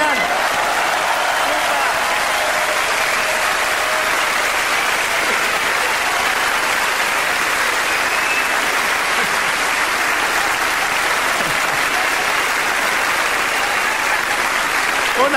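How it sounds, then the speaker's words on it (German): A theatre audience claps continuously for two men at a live stage show, producing a dense, even wash of loud applause that holds steady for about fifteen seconds without fading. "Ein Applaus an beide Herren."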